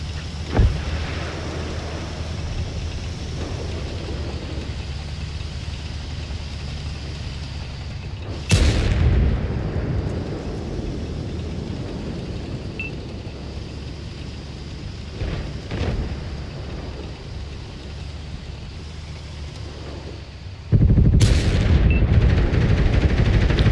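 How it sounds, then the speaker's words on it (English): Auto cannon fire in the World of Tanks console game: a few heavy, sudden booms punctuate a steady rumbling battlefield backdrop, with a loud burst near the end that continues to the close. "that auto cannon will just rip it apart"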